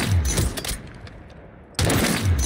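Sniper rifle fire in Call of Duty: Warzone, quick-scoping: loud, close blasts with heavy low boom at the start and again near the end, with a quieter decaying tail between.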